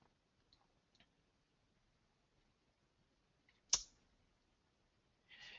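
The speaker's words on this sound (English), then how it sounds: "I'm going to go click on the ebook full text." A computer mouse clicks once, sharp and close, in a quiet room, with a few fainter taps before it and a soft rustle at the end.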